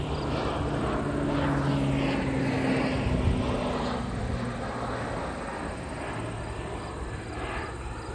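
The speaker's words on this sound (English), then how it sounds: "Airplane." A propeller airplane drones steadily overhead in an outdoor cemetery setting, a loud continuous engine hum that swells and slowly fades over several seconds.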